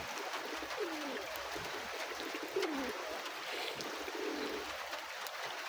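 Domestic pigeons sheltering from heavy rain coo softly several times at a moderate distance, over a constant hiss of falling rain.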